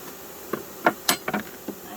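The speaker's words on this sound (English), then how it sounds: "Got the bees in there." Honeybees from a package being installed into a hive buzz close by in several short, sharp bursts over a faint background hum, with brief clicks of handling mixed in.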